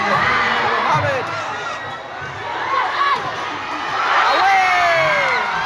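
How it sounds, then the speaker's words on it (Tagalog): Crowd cheering and shouting at an intense set-four volleyball match between Valencia City and Misamis Oriental, a loud continuous roar of voices with whoops rising and swelling throughout. "What a crowd."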